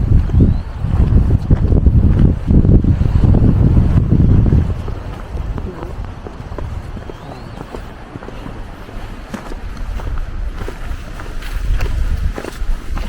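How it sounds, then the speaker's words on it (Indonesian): Strong gusty wind on Mount Merbabu roars and buffets the microphone, loudest in the first few seconds and then easing to a steadier rush, with people talking faintly underneath. "Anginnya kencang banget"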